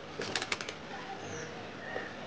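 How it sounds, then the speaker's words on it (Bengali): A pigeon takes off beside a home with a lychee tree, its wings beating in a quick burst of several claps before the sound fades into quiet outdoor ambience. "পায়রা উড়ে গেল।"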